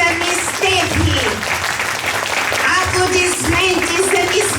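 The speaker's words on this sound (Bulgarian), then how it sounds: "Аплодисменти за мис Мариана." An audience applauds at a kindergarten Christmas ball in an indoor hall, steady clapping that keeps going under an amplified voice speaking over it, with a brief musical tone rising now and then.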